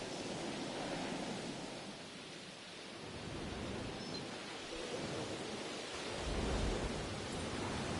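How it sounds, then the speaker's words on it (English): A windstorm in the dinosaur park game Jurassic World Evolution: steady, broad rushing wind noise that swells and eases, with a deeper gusting surge near the end and no voices. "it's just a windstorm, so it's not a huge deal"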